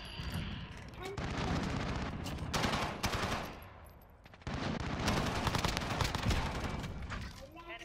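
Rapid automatic gunfire from a first-person shooter video game comes in long loud bursts, stops briefly, then starts again, with close player voices heard under the shooting.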